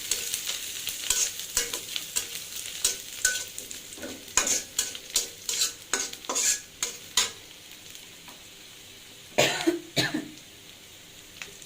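Onions fry for a tempering while being stirred in a pan, a run of scraping, clattering spatula strokes over a soft sizzle, close, with a cough or throat clearing in between.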